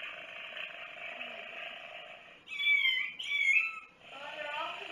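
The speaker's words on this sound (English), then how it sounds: "That is kind of a concerned meow that he's making" A kitten gives a concerned meow, two short plaintive cries close by, rising over a steady electronic hum from a shaking greeting card.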